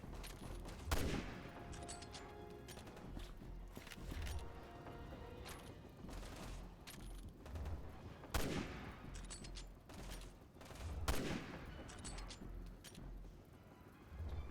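Rifle gunfire in the video game Resident Evil 6: four heavy, booming shots spaced a few seconds apart, loud and close over a constant rumbling game background.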